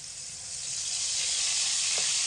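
Poppy seed paste sizzling and frying in a hot pan with half-fried chillies, a steady close hiss that swells slightly louder toward the end, with no talking.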